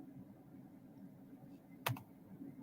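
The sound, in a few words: typing on a computer keyboard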